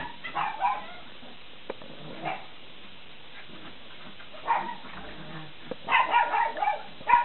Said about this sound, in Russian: Ай, хорошая собачка.